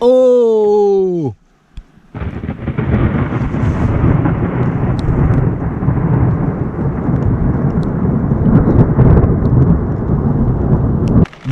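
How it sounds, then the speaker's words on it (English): A brief tonal sound opens, then after a short gap a heavy, continuous rumble of rain and thunder rolls on steadily without letting up. "It looks like the thunderstorm are coming this way again."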